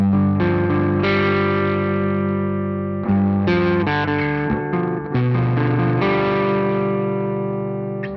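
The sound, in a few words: electric guitar riff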